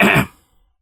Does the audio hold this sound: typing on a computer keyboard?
no